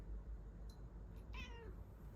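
A pet cat gives a single clear meow near the end, rising then falling, with a faint chirp just before it over a quiet indoor hum.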